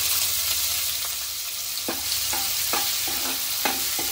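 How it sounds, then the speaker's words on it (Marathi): Onion goes into dal frying in a pan and sizzles steadily, with a run of sharp spoon-scraping stirs in the second half. No one talks. "आता आपण कांदा घालायचा आहे।"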